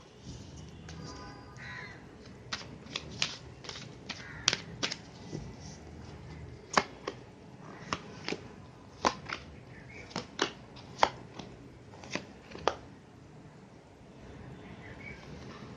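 Tarot cards being shuffled by hand in quiet, scattered sharp riffles and snaps, close and faint over a soft room background, with no speech.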